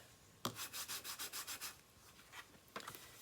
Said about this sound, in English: Give that a nice burnishing.